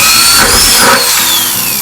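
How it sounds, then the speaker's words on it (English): A loud power drill whines steadily at close range, its motor pitch shifting slightly as it bites in. "So basically what you want to do is just want to drill."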